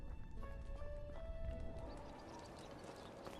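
Donkey hooves clip-clopping in a steady, close rhythm across the ground in the medieval survival game Medieval Dynasty, heard alone with no talk.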